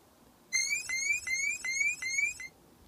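A random retro sound effect from the rFX Generator: a bright, electronic warbling tone that pulses in quick, even repeats for about two seconds, fairly quiet over a low background hiss.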